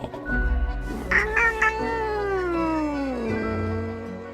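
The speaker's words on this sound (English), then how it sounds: "The cat mutters an annoyed meow through her snores." A drowsy cat lets out a long, drawn-out annoyed meow that slides downward in pitch, close and clear, with low rumbling breath around it and no talk.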